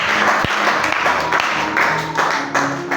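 A church congregation applauding and cheering for Jesus during a French-language service, steady dense clapping from a large crowd that fills the room and swells in waves.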